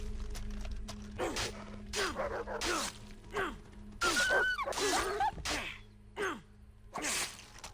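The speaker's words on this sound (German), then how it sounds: "Das sind anscheinend Dingos." Dingoes in Far Cry 3 give a string of short, sharp barks and growling yelps in repeated bursts, close and fairly loud over a low steady background hum.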